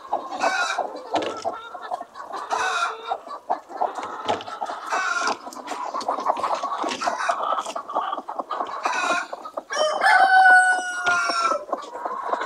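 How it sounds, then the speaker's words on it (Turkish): Roosters crowing and chickens clucking busily on a laying-hen farm, dense overlapping clucks with a few loud crows standing out, close and continuous. "Kaç tane horoz var Merdan?"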